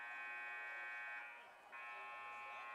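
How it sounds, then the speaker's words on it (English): A three-minute buzzer sounds at a girls' varsity high school basketball game: a steady, loud electronic drone with a brief dip partway through, then it carries on to the end. "it's about 3-minute buzzer about ready to go."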